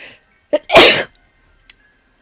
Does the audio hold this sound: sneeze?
yes